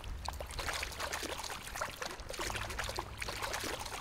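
Water trickles and pours steadily through a calm, empty space in The Backrooms video game, a close, continuous wet splashing and dribbling with no voices over it.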